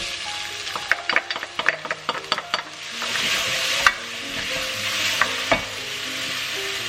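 Garlic and onion are stirred in a hot pan for plant-based spaghetti bolognese, with a quick series of spatula taps and scrapes that gives way to a rising, steady sizzle and a few further knocks.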